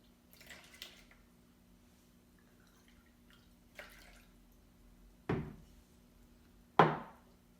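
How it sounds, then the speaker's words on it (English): Water drips and drains from a seed sprouting system, a few sparse, soft splashes and taps spread apart, the last two louder and closer, over a quiet low hum. "The whole sprouting system is it slowly drips out, but it keeps the moisture in"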